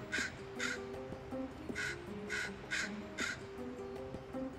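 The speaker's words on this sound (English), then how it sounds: "just the tentative scold of one young crow" A young crow gives a tentative scolding call, about half a dozen harsh caws spaced at a fairly regular rhythm, clear and fairly close over a quiet outdoor background.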